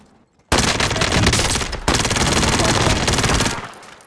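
Loud, continuous automatic gunfire in a Call of Duty-style shooter, rapid bursts starting abruptly after a brief quiet moment and running for about three seconds before tapering off.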